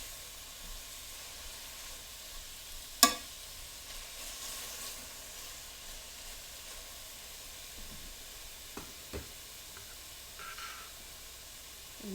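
Kale and chard in a pan give off a faint, steady hiss, with one sharp clack of a utensil early on and a few soft scrapes later, quiet and without talk.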